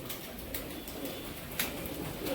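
Punjabi breed pigeons coo softly and steadily amid a broad, noisy background hiss, with no voices over them.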